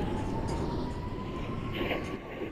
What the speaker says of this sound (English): Oh, it's the 7 Express train.